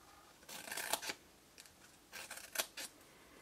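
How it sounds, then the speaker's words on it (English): Scissors snip through paper while crafting rainbow treat boxes, several crisp, close cuts in two separate bursts with quiet gaps between them. "that's a better pair of scissors."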